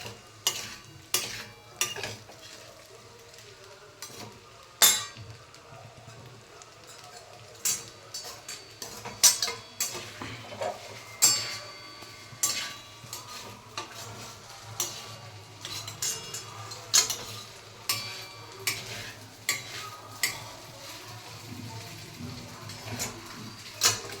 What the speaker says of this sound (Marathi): हे छान मिरचीचं सगळं मिक्स करून घ्यायचं आणि छान परतून घ्यायचं.